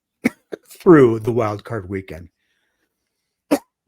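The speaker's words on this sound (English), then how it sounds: "Apologies for the coughing." A few sharp, brief coughs from a man, one just before he starts talking and another after a pause, close to the microphone and separated by his speech.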